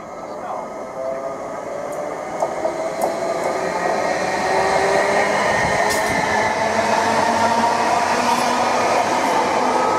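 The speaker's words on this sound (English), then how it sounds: "The intermodal was en route from Doncaster Eyeport Terminal to Felixstowe" An intermodal freight train runs through a station on its way to Felixstowe, a sustained rumble with wheel and rail noise that slowly builds and stays loud as the wagons roll past.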